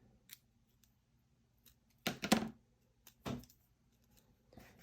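Scissors snip through paper pieces for a handmade day box, a few sharp isolated cuts with a quick cluster of close snips in the middle, near and crisp against a quiet room.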